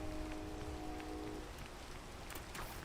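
Rain falls steadily in a video game, a dense continuous hiss of drops with no pauses, while a faint tonal hum fades out early on.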